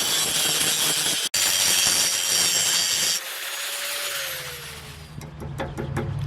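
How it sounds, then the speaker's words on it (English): An angle grinder cuts at a metal part on a 7.5 tonne lorry, a harsh, loud hissing rasp that stops abruptly, then a whine winds down as the disc spins to a halt, followed by further clattering work noise. "So we'll get the grinder here."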